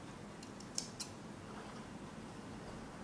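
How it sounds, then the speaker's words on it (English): Sewing scissors snip loose thread ends left after hemming jeans. There are a few quick, faint metallic clicks close together in a quiet room. "I take sewing scissors"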